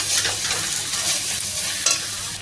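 Tomatoes with ginger-garlic sizzle steadily in a hot pan, with continuous loud frying hiss and occasional stirring scrapes close by and no talking.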